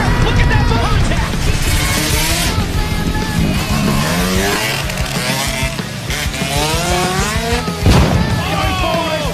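MotoGP motorcycles crash during a race, with rising and falling engine whines and revving sweeping through a loud, busy mix. Several sharp impact bursts punctuate the noise, and commentary talk runs underneath.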